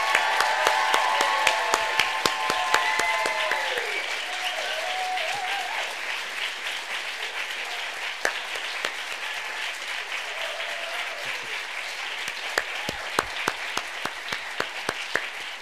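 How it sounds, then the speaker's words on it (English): Audience applause for the four student debaters at the Queen's University School of Medicine Travill Debate, a sustained hall-filling wash of clapping with some cheering, strongest at the start, then settling into steady clapping that carries on throughout. "let's have an unbelievable round of applause."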